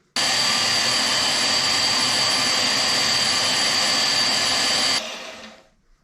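Power tool cutting through a curved exhaust pipe, a loud, steady high-pitched whine held for about five seconds close by, then stopping abruptly and fading out, no speech.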